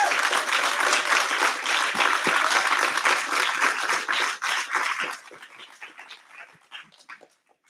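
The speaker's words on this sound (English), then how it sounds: "So a big round of applause for all of you guys for making it to the graduation ceremony." Applause from a graduation ceremony audience, a dense, sustained clapping that thins out into scattered claps and fades to near silence toward the end.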